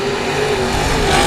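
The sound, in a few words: race cars racing at speedway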